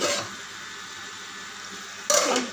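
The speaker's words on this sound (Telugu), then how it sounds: "స్నానానికి నీళ్ళు పెట్టాం. వాటర్ వస్తుంది." Tap water runs steadily into a bucket or tub for a bath, a soft continuous hiss at moderate distance, then a louder, splashier burst near the end as the flow strikes the water.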